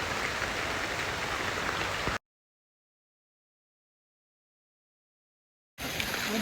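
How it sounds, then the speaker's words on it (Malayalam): Heavy rain at a waterfall in Malappuram, a dense, loud continuous roar of water that cuts off abruptly into silence and then returns just as strongly. "ഹെവി മഴ തുടങ്ങിയിട്ടുണ്ട് കേട്ടോ, സ്റ്റാർട്ടായിട്ടുണ്ട്."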